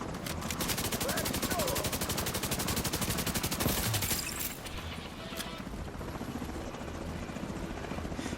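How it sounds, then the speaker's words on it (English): Helicopter in the video game The Division 2, a steady loud rotor chop thrumming overhead amid rapid bursts of in-game gunfire, with the rotor beat continuing alone at lower intensity toward the end. "I don't know where that copter's coming from."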